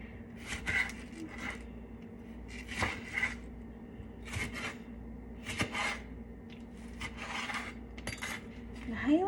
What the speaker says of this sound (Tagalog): So, mag-start na tayong maghiwa.